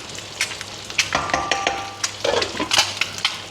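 Egg tomato curry frying in a pan while being stirred, with a soft steady sizzle under intermittent scraping and clinks of a spoon against the pan at close range, with no talking.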